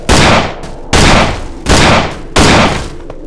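A weapon fires four times in the horror game Cry of Fear, each shot a loud, close boom with a decaying tail, spaced roughly evenly about three-quarters of a second apart.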